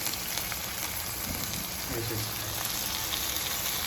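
Brain pieces frying in hot oil with onions make a dense, continuous close sizzle and crackle, loud and steady throughout.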